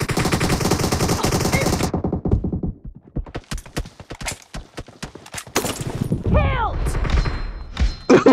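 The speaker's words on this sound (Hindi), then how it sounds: "अबे कौन है इतना बम फोड़ रहा है यार? इतना बम लाते कहाँ से हो?" Repeated firecracker-style bombs burst in rapid, dense volleys, loud and close, with a short quieter stretch of scattered pops before the bursts pick up again; voices are heard amid the noise.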